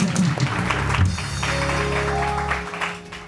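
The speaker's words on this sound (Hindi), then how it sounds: "हमारे बैंड के लिए भी जोरदार तालियां" A studio audience on a TV morning show applauding for the band, energetic clapping over sustained low musical tones that cut off after a few seconds.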